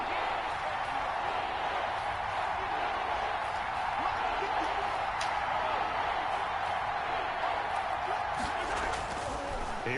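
A football video game's stadium crowd roars in a steady, even wash of cheering as a big third down approaches, with game commentary faintly underneath.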